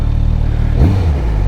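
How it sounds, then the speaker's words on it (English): A 2024 Suzuki GSX-S1000GT motorcycle rumbles loud and close with a deep, steady exhaust tone, then a short blip of the throttle swells the note before it settles back to idle. "it's got a really good exhaust tone"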